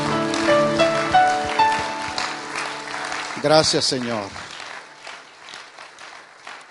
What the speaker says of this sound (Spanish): ¿Puedo darle un aplauso a Él?